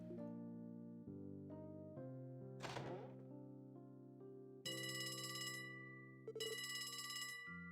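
A phone in the video game Trails from Zero rings with a repeating electronic melody, interrupted by a soft thunk and followed by brighter, louder bursts of ringing tones.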